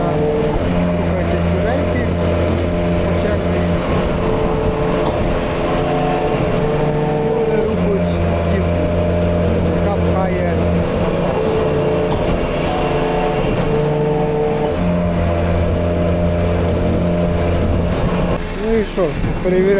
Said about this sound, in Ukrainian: Ось як виконується вивантаження, рухається.